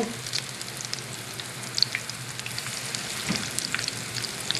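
Clam fritter batter fries in hot oil in a 10 inch skillet, giving a continuous close sizzle with fine crackling pops and a few brighter spatters, steady throughout with no voices.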